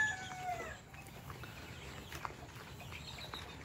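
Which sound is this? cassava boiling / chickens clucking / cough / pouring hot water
chickens clucking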